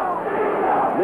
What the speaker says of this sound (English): And the crowd is chanting now for